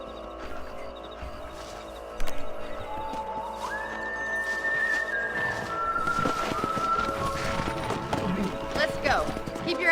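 A horse gallops in Red Dead Redemption, with quick clip-clop hoofbeats, a whinny and a whistle, set among in-game sounds and voices speaking.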